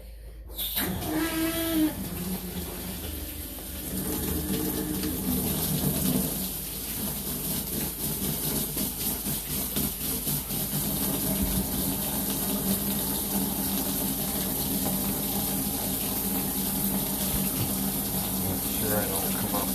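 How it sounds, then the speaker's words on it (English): Water runs steadily from a sink faucet in a house, a continuous broad hiss that stays near and fairly loud for the whole stretch, with a brief clatter at the start. "So I'm gonna do my magic little run of water."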